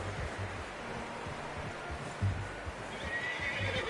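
A horse in Red Dead Redemption 2 whinnies over a steady outdoor game ambience, with hooves clip-clopping faintly in the background.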